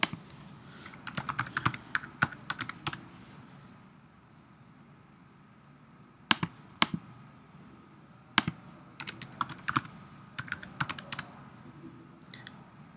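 Clicky keystrokes on a computer keyboard while typing code, coming in quick bursts with pauses between, close and fairly quiet over faint room noise.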